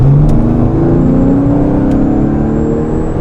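A 2020 Lincoln Aviator Grand Touring accelerates hard with its gas engine engaged and a 10-speed automatic shifting, giving a loud, steady engine drone that climbs in pitch throughout, with no talking.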